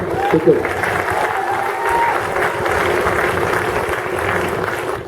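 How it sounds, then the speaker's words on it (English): Steady applause from a crowd at a university band halftime event, a dense continuous wash of clapping holding evenly throughout with some background voices. "Give yourselves a round of applause."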